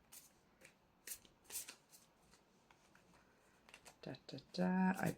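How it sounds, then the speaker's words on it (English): Stiff playing cards are shuffled in short scraping bursts, ending in a loud riffle and bridge near the end; quiet and close. "These cards are like so thick and stiff, it's actually really hard to shuffle them."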